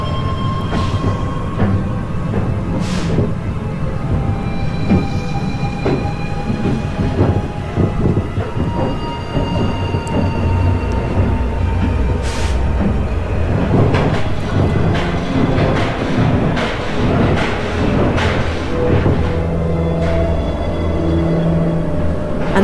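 Nemesis roller coaster train at Alton Towers rolling into its brake run, a steady loud rumble and rattle of wheels on track with clacking and hissing brake noise throughout, crowd and station ambience beneath.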